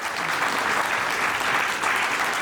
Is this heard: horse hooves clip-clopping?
no